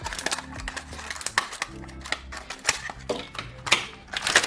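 A plastic container being cut apart along both sides of its seam and then across, so the pieces fit a home recycling shredder: irregular, close, crisp cracks and snaps of stiff plastic over a low, steady background.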